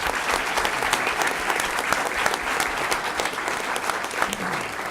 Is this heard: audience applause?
yes